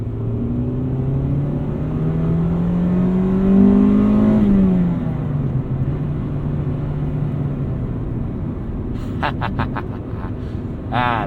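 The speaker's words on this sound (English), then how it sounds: "So the VTEC kickover in this, and the overall induction noise, considerably quieter than in the Integra Type R." A 1995 Acura Integra GSR engine revs up, its pitch climbing steadily as VTEC engages, then settles lower. Loud, close intake and engine sound carries throughout, ending with a rapid series of sharp mechanical ticks.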